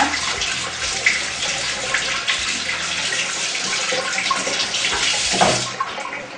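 Food being washed under warm running tap water, a steady loud gush and splash from the faucet over the whole stretch, with the pitch shifting slightly as things move under the stream and no voices.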